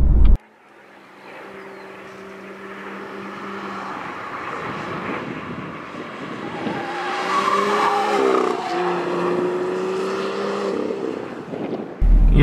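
A BMW M2 drives hard on a race track, its engine droning in steady tones that climb and grow louder midway as the car accelerates, with a brief rough burst as it shifts, then the sound ends sharply.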